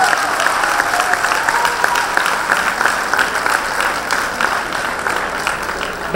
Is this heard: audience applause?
yes